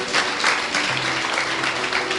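A church congregation at an evening service applauds in a steady, moderately loud wash of clapping that continues throughout, with a faint voice briefly underneath.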